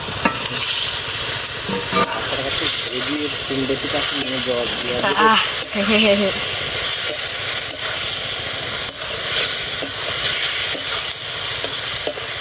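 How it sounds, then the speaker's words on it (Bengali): Water and fried eggs go into a sizzling, well-cooked spice masala in a pan, a loud, continuous hissing fry with scraping stir strokes, and a voice speaks briefly partway through. "অল্প একটু জল দেবো ভেজে রাখা ডিমগুলো দিয়ে দেবো"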